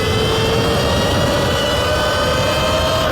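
A Sur-Ron Ultra Bee electric dirt bike held at full throttle in daily mode gives a continuous loud whine and rushing roar that stays steady and close throughout.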